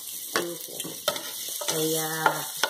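Garlic frying in a pan for chicken thighs with cream of mushroom gives a steady close sizzle, punctuated by scraping utensil strokes and light pan knocks.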